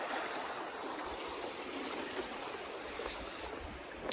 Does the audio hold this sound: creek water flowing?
yes